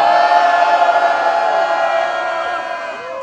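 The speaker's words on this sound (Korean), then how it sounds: "그런 마음 담은 함성 한번 질러볼까요?" At a candlelight rally in Gwangju protesting the National Intelligence Service, a large crowd lets out a loud, sustained cheer and shout that fills the whole moment and slowly tapers off.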